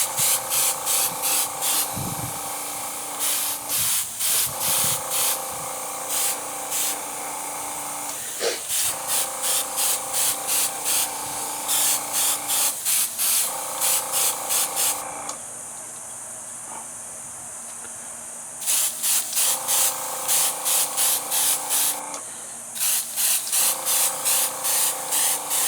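Aerosol paint sprayed in light coats onto a model 1970 AMC Javelin Trans Am, repeated bursts of close hissing spray broken by short pauses and one longer gap, with a few small knocks.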